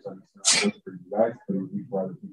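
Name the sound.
sneeze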